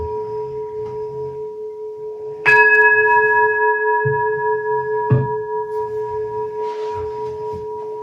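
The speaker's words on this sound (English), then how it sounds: "sound of the temple bell." A temple bell is struck twice, each a sharp attack followed by a long, steady ringing hum with bright overtones that sustains and slowly fades, heard close and alone in a quiet room.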